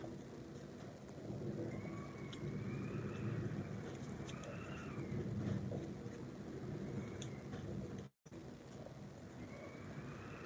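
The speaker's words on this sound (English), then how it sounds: "The wind is crazy." Wind buffets an outdoor microphone at a stained glass workspace, a steady low rumbling roar that runs throughout with faint higher whistling tones over it.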